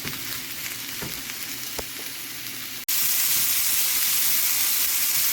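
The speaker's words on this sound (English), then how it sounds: "Let them cook slowly in the oil." Onions and peppers fry slowly in oil over medium heat, a steady broadband sizzle that jumps noticeably louder partway through, with a couple of faint clicks from the pan, no voices.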